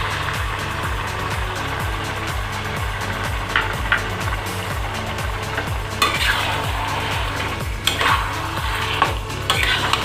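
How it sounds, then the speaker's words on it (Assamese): Tomatoes and chicken frying together in a pan for chicken curry, with steady sizzling, regular rhythmic stirring scrapes and occasional clinks of a utensil against the pan, close up and with no talking. "এতিয়া বিলাহী আৰু চিকেন একেলগে ভাজি থাকিব লাগিব"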